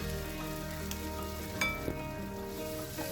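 Squid roast sizzles steadily in a pan as curry leaves go in, a soft continuous frying hiss with a few light crackles and stirring clicks, close but quiet, with no talk.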